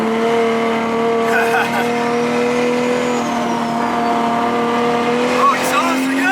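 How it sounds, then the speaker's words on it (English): A drag car drives on the road just ahead, its engine a steady, loud mechanical drone with a faint squeal partway through. The sound holds evenly throughout, with no speech. "we have a drag car in front of us"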